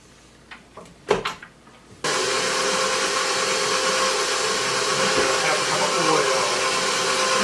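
A stand mixer with a paddle attachment mixes sourdough bread dough, starting abruptly after a few brief knocks and settling into a loud, steady motor whir that runs continuously to the end.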